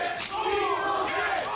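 A wrestling crowd cheers steadily in an arena, a loud, continuous wash of voices and shouts rallying behind a wrestler trapped on the ropes in the corner.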